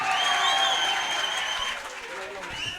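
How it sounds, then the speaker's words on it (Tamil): An audience claps at a village stage drama near Usilampatti, a steady, moderately distant patter of hands mixed with crowd noise and voices speaking over it. "ஒரு கைதட்டு கொடுக்கலாம்."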